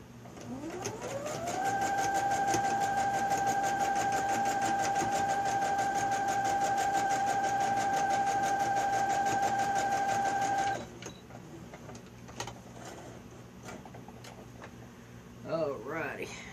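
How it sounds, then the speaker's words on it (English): A sewing machine stitches pieces of a newspaper quilt together in one steady, close, rapid run of about nine seconds that spins up at the start. Quieter handling sounds follow once it stops. "So, let's get that one sewed on."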